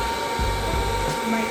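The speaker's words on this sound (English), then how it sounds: "every time you glue that track, you're going to hook it with a blow dryer." A blow dryer blasts a steady, loud roar while heat-setting a freshly glued hair weave track, running continuously and close by with no talking.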